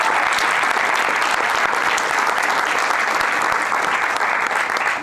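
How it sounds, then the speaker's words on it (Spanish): A crowd gives a big round of applause at a feature-film premiere, dense and loud clapping that holds steady and unbroken for the whole stretch, with no voices rising above it. "un aplauso gigante también para Alan"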